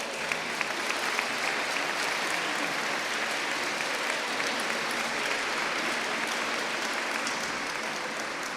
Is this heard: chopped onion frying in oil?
no